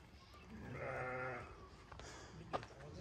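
Young ewe lambs and sheep at a livestock sale bleat in a few drawn-out calls, one long cry rising in the middle and a sharper bleat near the end, over low background noise.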